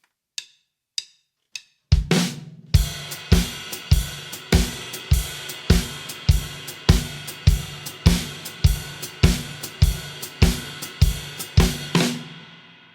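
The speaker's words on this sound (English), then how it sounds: "Another variation you can play of a shuffle is with the left foot on the hi-hat playing all the upbeats." Drum kit shuffle with the left foot working the hi-hat on every upbeat: a few sparse opening taps, then a steady swung groove of regular strong kick and snare hits with chick accents, close and loud, no talking.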